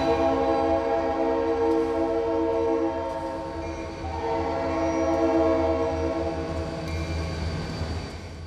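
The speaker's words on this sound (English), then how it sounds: "a great place to visit with train horns echoing in a concrete and brick canyon" A loud, sustained train horn blares with steady layered tones, echoing in a concrete and brick canyon in Kansas City, holding for several seconds with slight swells in volume.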